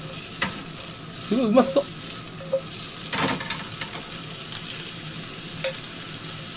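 Shiitake mushrooms fry and sizzle in a pan on a stove, a steady crackle broken by clinks and scrapes from a utensil, with brief speech over the cooking.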